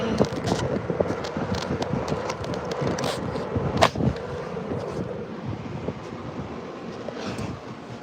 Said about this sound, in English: Yeah, that wind is blowing today.